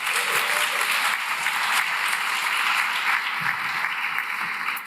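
Sustained applause from a seated audience thanking the food service staff at an academic event, a steady dense wash of many hands clapping for about five seconds with no talking.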